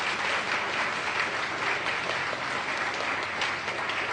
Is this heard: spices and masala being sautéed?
no